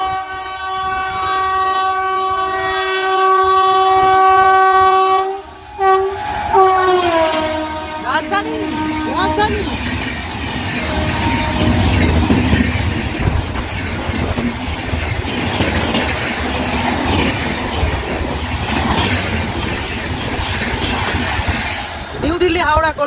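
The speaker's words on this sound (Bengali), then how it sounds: "সামনে দুরন্ত গতি নিয়ে এগিয়ে আসছে একটি এক্সপ্রেস ট্রেন।" Howrah Rajdhani Express from New Delhi rushing past at about 130 km/h, opening with a loud sustained multi-tone horn, then a roaring, rattling rush of wheels and coaches close by that continues to the end.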